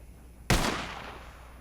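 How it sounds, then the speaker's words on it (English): A single loud gunshot from the video game Red Dead Redemption cracks out sharply and trails off in a short, fading echo, alone with no talk. "Shooting."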